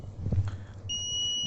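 A small active electronic buzzer sounds one steady, continuous high-pitched beep of about half a second, clean and close, after a moment of low background hum.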